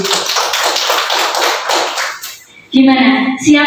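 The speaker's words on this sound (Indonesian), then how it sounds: "Tepuk tangan untuk kita semua dulu." Teachers clap together in a room, a couple of seconds of steady rhythmic hand claps that fade out, followed by voices calling out loudly.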